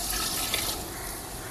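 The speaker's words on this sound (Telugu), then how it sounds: "వాటర్ పోసుకుందామండి" Water rushes steadily into a pot of home-cooked chicken curry, a close, continuous broadband pour that eases slightly partway through.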